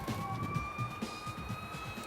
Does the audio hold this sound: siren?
yes